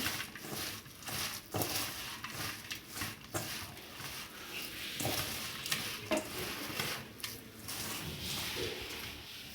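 Ghee is stirred into sweet flattened rice (avalakki) in a pan, with a soft, low sizzle under repeated spoon strokes, scrapes and squishy mixing sounds in an uneven rhythm, close and quiet.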